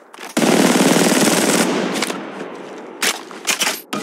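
A long, loud, close automatic burst of gunfire in Apex Legends Mobile rattles for over a second, then fades, followed by a few separate sharp shots.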